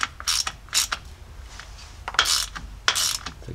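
A ratchet with a 10 millimeter internal hex bit tightens the fill plug of a slip yoke eliminator during a driveshaft install, giving several short bursts of rapid clicking, close and fairly loud, with pauses between strokes.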